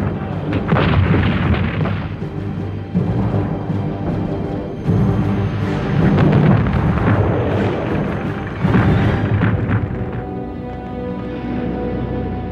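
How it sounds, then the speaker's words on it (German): Artillery shelling and bombing of Warsaw during the 1939 siege, heard as repeated heavy booms and rumbling blasts in bursts with dense roaring noise between them, loud and continuous throughout. "Hitler persönlich schaut vom Weichselufer aus zu, wie die Stadt beschossen wird"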